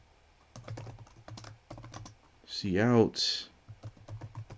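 Computer keyboard typing comes in short bursts of close key clicks while someone speaks briefly in the middle, during C++ programming practice.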